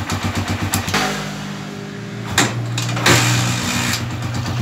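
A Honda TMX155 motorcycle engine, its valves newly set to 0.8 mm, kicks into life and settles into a steady idle with a rhythmic ticking chug, close up, with a couple of brief revs and no voices.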